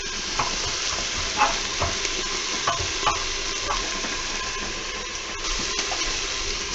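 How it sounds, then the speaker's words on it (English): Bacon sautéing in an Instant Pot gives a steady, close sizzle with a few soft stirring scrapes and clicks spread across the stretch, and no talking. "So let's just saute that right up, huh?"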